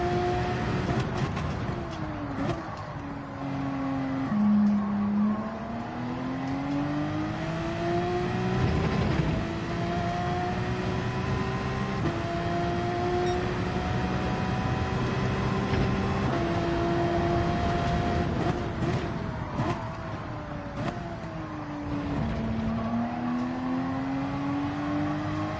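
A race car in Gran Turismo 7 brakes hard from about 150 mph down to 50 into a corner, its engine note dropping through downshifts and rising again on exit, loud and continuous with no talk.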